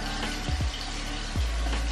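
Tap water runs steadily into a bathroom sink during a face-washing routine, a continuous close splashing stream with a few faint low thumps, and no talking.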